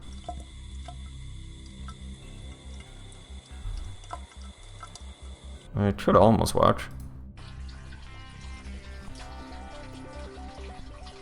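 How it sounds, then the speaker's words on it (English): Water flowing from a pipe as a sound effect being auditioned, a short loud gushing burst in the middle, with someone talking quietly before and after over faint background music. "Water from pipe,"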